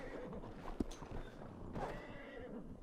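Horse whinnying in the Red Dead Online video game, a single near, loud neigh with clip-clop hooves and a brief sharp crack amid busy game ambience.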